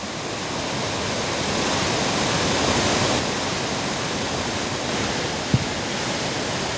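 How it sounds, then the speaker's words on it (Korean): The Blue Nile Falls in Ethiopia, running with reduced dry-season flow, give off a loud, steady, broadband roar of falling water that stays constant throughout, with one brief knock near the end. "이곳이 바로 청나일강의 폭포입니다."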